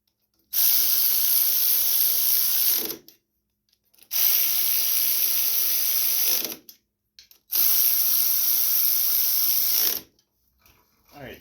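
A ratchet wrench tightens bolts on the engine of a John Deere LA105 riding lawn mower with a 19.5 horsepower engine, in three long bursts of rapid close clicking with short pauses between.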